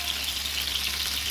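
Fish fries in hot oil in a pan, giving a dense, continuous close-up sizzle and crackle without pause.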